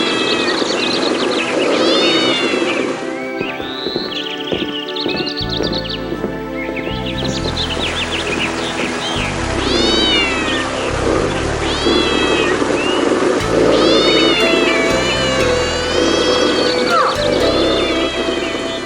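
A cat yowls and screeches in a fight with a large dog in an animated Jungle Book story for kids, loud drawn-out wails rising and falling over a busy musical score and low growling tones.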